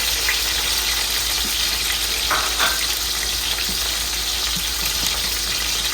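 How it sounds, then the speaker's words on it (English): Onion frying in a pot with a bay leaf and a little salt, a steady hiss of sizzling oil running throughout, with a couple of brief utensil scrapes in the middle. "You are not going to allow the onion to fry too much."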